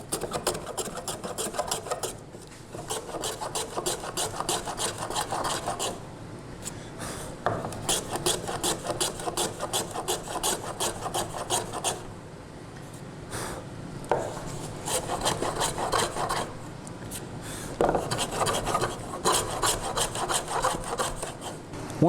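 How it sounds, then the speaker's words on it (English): Kumiko wood strips being shaved down by hand plane in a jig, a steady rasping scrape repeating in close bursts with brief pauses between strokes. "And now I'm just going to start shaving this down."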